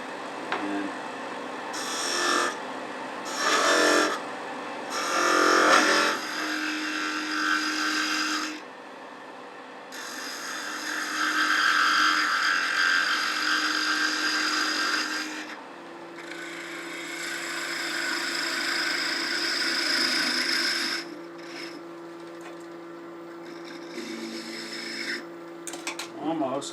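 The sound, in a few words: woodworking tool cutting a taper in wood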